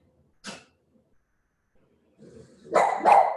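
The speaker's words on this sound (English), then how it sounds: "No barking." A dog barks indoors during a yoga flow session: one short sharp bark, a pause, then a growl building into two louder close barks.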